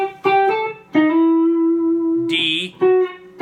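A guitar plays a short lick melody built on triads, with sustained picked notes and a brief higher flourish near the middle, close and clear with no talking over it.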